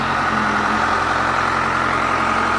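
A 1996 John Deere 310D two-wheel-drive loader backhoe diesel engine idles in a steady, continuous low rumble with a faint hum, loud and close, with no one talking.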